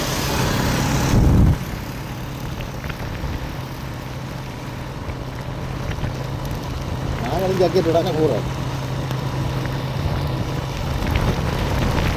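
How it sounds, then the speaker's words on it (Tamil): Rain falls steadily in Tamil Nadu during a cyclone aftermath, a continuous broadband patter under traffic hum with a vehicle passing, while someone speaks over it. "இப்போ மழையில் ஆடாமல் தொட்டு தொட்டு பெய்து கொண்டு இருக்குது"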